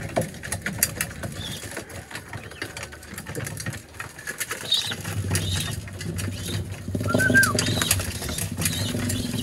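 Pigeons being fed make soft cooing calls, with scattered patters and wing flaps nearby over a faint low engine hum.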